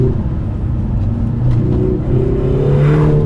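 A Lotus Emira 2.0 sports car accelerates on a wet winding road, its engine giving a steady, rising drone with a whooshing swell near the end, loud and continuous with no talking.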